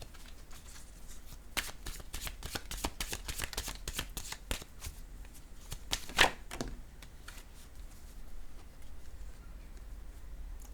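Oracle cards being shuffled before one is drawn, a close series of rapid papery snaps that comes in fast clusters and then thins to sparser flicks over a faint steady background hum.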